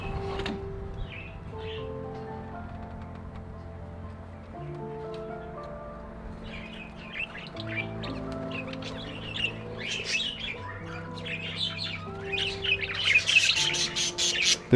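Female budgies chirp and squawk around a smart bird house, bright scattered tweets growing busier and louder toward the end over a soft background of steady tones.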